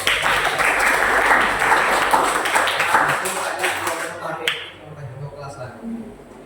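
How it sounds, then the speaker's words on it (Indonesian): A class of students applauds during a coding and artificial intelligence lesson, with lively clapping that fades out after about four seconds, followed by quieter room sound and a voice. "Tepuk tangan dulu."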